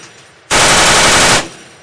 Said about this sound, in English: And spotters are using machine guns to help.